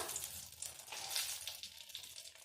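Dry red chilli tempered in hot oil for an aloo and shol fish curry, giving a steady close sizzle and crackle with no talk.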